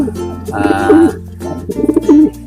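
Pigeons coo at a breeder's coop, with repeated throaty, warbling calls sounding close and loud in two phrases.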